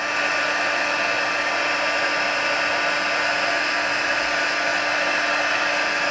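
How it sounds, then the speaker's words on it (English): A heat tool blows steadily and loudly throughout, a constant fan-like roar used to heat-set embossing powder in a stamping craft session, with no breaks and no talk. "Use your heat tool to heat set it."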